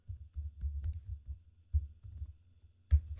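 Keys clatter on a computer keyboard during spreadsheet work, a quick run of soft taps followed by a few sparser, louder keystrokes, close and quiet.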